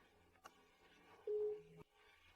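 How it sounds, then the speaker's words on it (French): A phone call placed to a father's mobile, switched off and unreachable, gives a short electronic tone: a click, then a brief steady beep of under a second, alone with no talk. "Son téléphone est éteint, impossible de le joindre."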